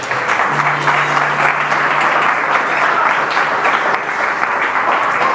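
A church congregation applauds in a steady, loud burst of clapping that fills the room without pause.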